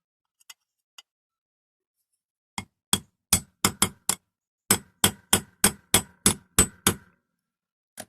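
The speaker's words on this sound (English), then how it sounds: "Might have to give that a little tap with an hammer, I think." A few light taps, then a steady run of sharp metallic hammer strikes on a metal punch, evenly spaced and close, ending abruptly, while restoring a Matchbox King Size die-cast Scammell 6x6 toy truck.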